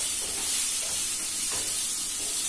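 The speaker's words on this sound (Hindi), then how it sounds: "सबको अच्छे से मिक्स करेंगे" Raw mango launji being stirred in a pan over low flame, a steady close sizzle with soft, rhythmic scraping strokes and no talk.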